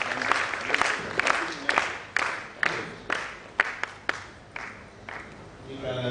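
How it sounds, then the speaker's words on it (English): An audience applauds graduates at a prize-giving ceremony, with uneven clapping and sharp individual claps standing out as the sound swells and fades, under faint crowd murmur. "Will you clap, please? We have to cheer for our graduate, please. Keep clapping for them."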